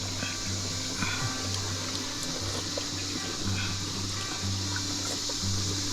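Spring water runs out from between rocks at Gandharva Theertham in Tirumala, a soft, steady trickle and wash heard over a low droning hum, with no talk.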